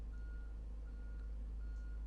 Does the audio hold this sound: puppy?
no